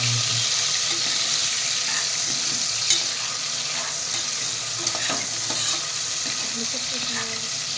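Tomatoes stirred and fried in a pan for a mutton curry, a steady close sizzle with light scraping and a few soft clinks running throughout, no voices.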